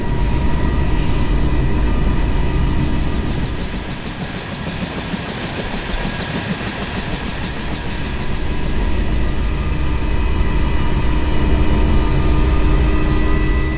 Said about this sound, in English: see the helicopter is shaking slightly due to the two-bladed rotor system